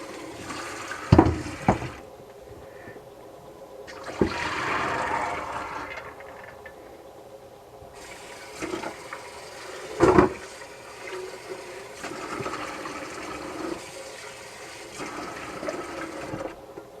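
Water running and splashing over corn in a colander, with gushing bursts and clattering knocks between quieter stretches of flow.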